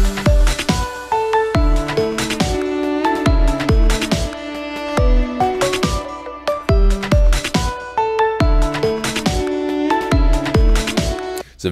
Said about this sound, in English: It's a very classic chill step kind of a beat.